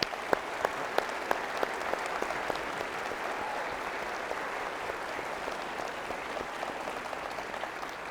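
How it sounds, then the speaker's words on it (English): Audience applause for two participants at a public debate, a dense, even crowd of clapping with a few loud individual claps close by at the start, continuing steadily throughout. "If you would, please give these two participants a round of applause."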